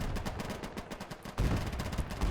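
Tank gunfire from Panthers in the Gates of Hell game, a dense, continuous barrage of booming shots and rattling fire that keeps up without pause, fairly loud and layered.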